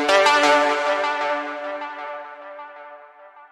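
Layered synth chords in Serum sit over a deep bass line in a dark liquid drum and bass production, a bright sustained harmonic texture that starts loud and slowly fades, with no talk.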